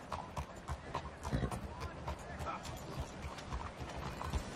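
Rhythmic clip-clop of horse hooves in a steady trot in the video game Red Dead Redemption II, fairly quiet and continuous throughout.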